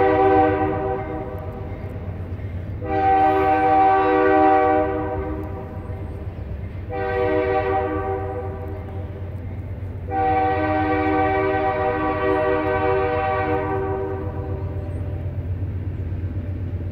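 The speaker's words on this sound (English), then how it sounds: "So yeah, that's the train." A train horn sounds three long blasts, the last held longest, over a steady low rumble of the passing train.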